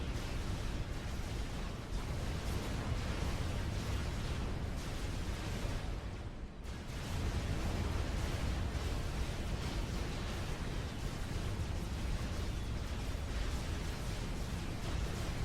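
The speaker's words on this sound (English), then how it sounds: "Can't even see my ACU anymore for all the artillery shots." Artillery shells rain down and explode around a commander unit in the real-time strategy game Supreme Commander: Forged Alliance, forming a dense, continuous roar of blasts that dips briefly partway through and then resumes at full strength.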